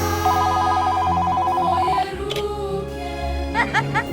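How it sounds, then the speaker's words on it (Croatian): A landline telephone rings at New Year midnight with a rapid electronic warbling trill lasting about two seconds, followed by a busy mix of background noise and brief chirps. "Borba za fiksni telefon."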